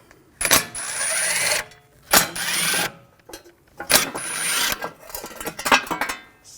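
A T30 socket on a ratchet or power tool backs out the bolts of the rear backing shield on a 2006-2009 Audi S4 in three or four close, loud bursts of rapid clicking and grinding, separated by short pauses.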